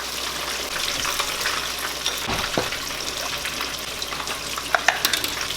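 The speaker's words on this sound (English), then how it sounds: "I'm going to go ahead and add the broth." Broth poured into a pot of cooked onions for rice grits, giving a steady hiss and sizzle with faint liquid splashing, close and continuous throughout.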